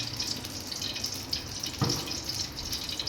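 Cooking oil pours into a pan in a continuous soft, liquid stream, close and moderately quiet, with a faint knock partway through.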